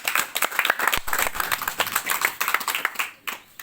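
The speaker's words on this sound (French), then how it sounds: "on peut vraiment l'applaudir très très fort." Lively audience clapping, a crowd of hands applauding close by with uneven bursts, tapering slightly at the end.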